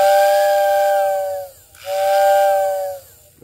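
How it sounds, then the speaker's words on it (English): Two loud, close blasts of a freshly serviced Lionel O gauge whistling tender, each a steady chord that droops slightly in pitch at the end, separated by a brief pause. "That's a very good whistle."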